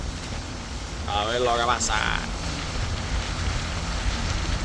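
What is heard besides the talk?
strong wind blowing on a boat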